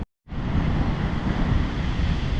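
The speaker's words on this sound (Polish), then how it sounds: "Bałtyk szaleje" A steady roar of rough Baltic Sea surf on a beach fills the air after a brief silence, broadband and continuous, mixed with wind buffeting the microphone.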